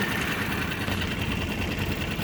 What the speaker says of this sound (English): with these little engines, they're extremely quiet.